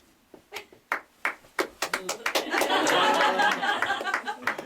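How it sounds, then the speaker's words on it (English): Hands clap for a guest in a stage play about a prince in a funny hat, starting as a few separate claps that speed up into a brief burst of group clapping with chuckles, then trail off into scattered claps. "Clap your hands."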